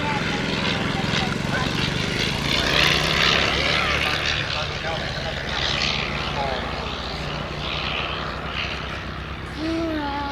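An Avro 504K biplane's engine drones steadily at close range as it taxis clear of the runway, with people talking over the noise.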